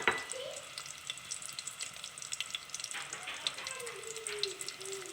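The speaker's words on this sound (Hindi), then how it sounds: "हमारा प्याज है वो फ्राई होना स्टार्ट हो गया है।" Onions frying in a pan as they begin to brown for chana dal pulao, with a faint, steady sizzle and light stirring clicks.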